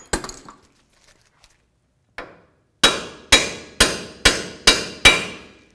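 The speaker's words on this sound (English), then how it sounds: "I'm going to give it a little tap with a hammer." Six sharp, evenly spaced hammer blows ring out close and loud on a stuck front lower control arm bolt of a 2008-2012 Ford Escape, after a few faint scattered taps.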